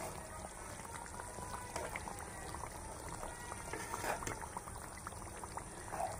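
Mutton pieces simmering in the water they have released, a steady busy bubbling and sizzling with small pops, fairly quiet and close, without talk over it.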